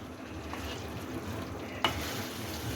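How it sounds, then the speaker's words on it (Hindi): Yogurt frying in a pan over a low flame while being stirred, a soft steady sizzle with a sharp scrape or clink of the spoon near the end, no voices. "इसको इसमें मिक्स कर लें और दही को इसमें भून लें।"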